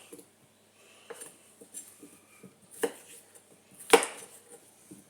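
Potatoes cut in half with a knife on a board give a few sparse, close chopping knocks and taps, the loudest near the end, in an otherwise quiet kitchen.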